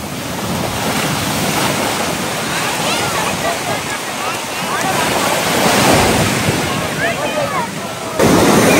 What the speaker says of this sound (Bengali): দেখতে পাচ্ছ ঢেউ চলে আসছে।